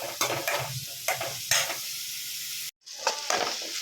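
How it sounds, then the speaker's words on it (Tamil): Onions and curry leaves sizzle and crackle in hot oil with stirring scrapes, a steady frying hiss that cuts out briefly then resumes. "சேர்த்து நல்லா எண்ணெயில் வதக்கி விட்டுக்கோங்க"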